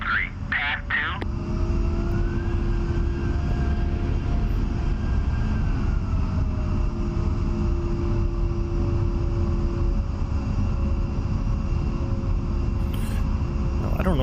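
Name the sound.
A-10A jet aircraft taxiing in DCS video game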